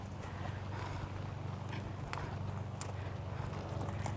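A horse's hooves clip-clop at a walk on firm ground as he is turned around, steady soft steps, fairly faint against a low background hum.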